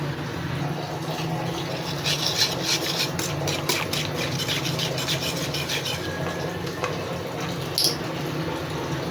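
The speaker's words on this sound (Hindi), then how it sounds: "अब इसको फेंट लेते हैं दही को, ताकि इसकी गुठलियाँ जो ख़त्म हो जाएं और मसाले अच्छे से मिक्स हो जाएं" Yogurt with spices whisked in a bowl for beef degi korma, a steady wet squishing and scraping rhythm with quick repeated strokes, fairly quiet and without talk.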